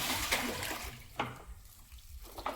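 A bucket tied to a rope goes into a water tank on a farm, splashing and gurgling in irregular sloshes close by, with a few louder splashes and no talking.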